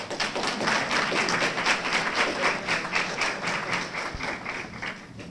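An audience claps for a student at a university mathematics, computer science and physics departmental awards event, a sustained crowded patter of hands throughout with one low thud near the end.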